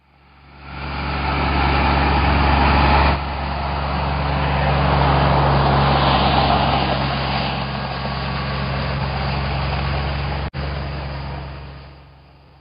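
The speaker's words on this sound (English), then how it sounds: "Tractor." A toy tractor's engine runs with a steady, close mechanical hum and idling rumble, broken by a brief click near the end.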